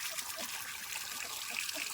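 A thin stream of water trickles and pours steadily nearby, a soft continuous splashing with no clear voices.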